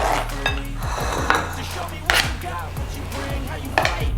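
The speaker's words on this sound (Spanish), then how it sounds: "Nuestro ajo lo cortamos." A knife chops garlic on a board in quick, regular knocks, a steady run of close, crisp taps with a few harder strikes, over faint background noise.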